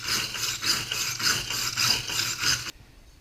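Wire brush scrubbed back and forth over aluminum to clean off the oxide layer before TIG welding, giving close, even rasping strokes that end abruptly.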